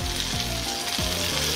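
Stir fry crackles and sizzles steadily in a hot pan, a close, continuous frying hiss with faint low rhythmic scraping running underneath.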